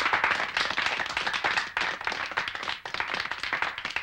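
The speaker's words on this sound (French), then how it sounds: "Allez, il est temps de l'applaudir" Audience applause greeting a guest on a cartoon show: dense, steady clapping from many hands, loud and close, with brief dips near 1.7 and 2.8 seconds and no voices over it.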